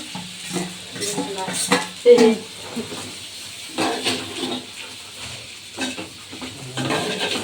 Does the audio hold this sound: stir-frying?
yes